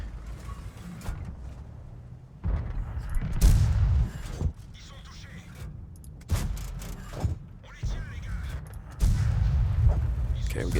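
Heavy tank gun shots in the World of Tanks video game, several booming blasts at irregular intervals with rumbling decay, mixed with battle noise and brief talk.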